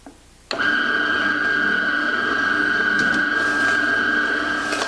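A juicer starts abruptly and runs with a steady, loud mechanical whine as pieces of apple, grapefruit, celery and carrot are fed in, a few faint knocks riding on the continuous hum.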